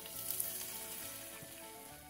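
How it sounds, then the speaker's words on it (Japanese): Softened onions and water sizzle and fry in a pan for a beef bowl, a quiet, steady hiss of bubbling that continues without a break. "この中に水を入れます。"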